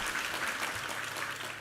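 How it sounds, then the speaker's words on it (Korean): A congregation in a Korean church claps together in praise, a continuous full room of applause at steady moderate loudness with no speech over it. "우리 하나님께 감사와 영광의 박수 올려드리겠습니다"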